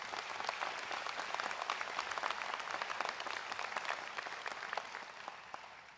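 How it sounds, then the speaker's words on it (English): Commencement audience applauding graduates of a pharmacy college, a broad, sustained roar of clapping in a large hall, gradually tapering near the end. "Please, a round of applause for the graduates."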